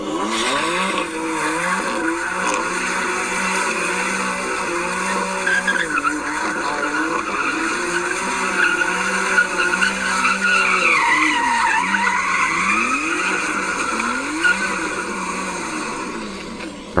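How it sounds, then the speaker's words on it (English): BMW M4 spinning donuts, steady engine drone with continuous tire skid and squeal, loud and sustained throughout, no talking. "So we got BMW M4 Donuts"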